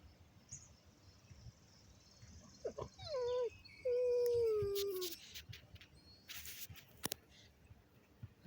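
An older dog howls outdoors: a couple of short wavering notes, then one longer drawn-out howl at moderate distance, with crickets and scattered clicks and knocks around it.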